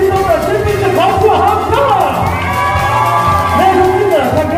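Wedding guests in a banquet hall erupt in loud cheering, whoops and shouts with clapping mixed in, a dense continuous crowd roar held for several seconds, close and unbroken.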